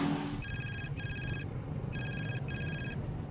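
A mobile phone plays its ringtone, four short bursts of a bright repeating melody in two pairs with brief gaps, heard close against low background room noise and no talk.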